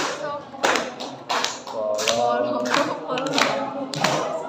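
Children in an Indonesian classroom clap their hands in a run of sharp, irregular claps mixed with voices and room noise at moderate level.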